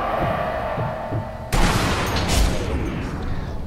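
Gunfire in Sniper Elite V2 in a Nazi facility, a quiet low rumble broken by a sudden loud burst of shots and crackling impacts that keeps rumbling afterward.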